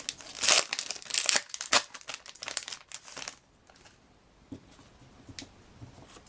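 A 1996 Japanese Jungle Pokémon booster pack wrapper is torn open and crinkled close up, with loud bursts of crackling foil for about three seconds, then softer rustling and occasional crinkles.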